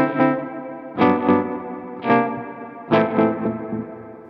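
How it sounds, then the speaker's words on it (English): Electric guitar played through an Electro Harmonix Stereo Pulsar tremolo pedal, four strummed chords pulsing in a rapid, delay-like throb that cuts off when the strings stop, heard close and alone. "It's so weird that it sounds so much like a delay, but it just stops as soon as I stop playing."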